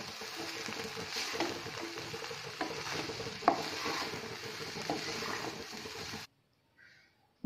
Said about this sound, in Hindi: गैस को सीम रे रखी मिक्स कर देबा।